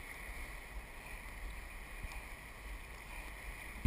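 A boat is paddled through river rapids, with steady rushing water and faint splashes under light wind noise, and a brief knock at the end.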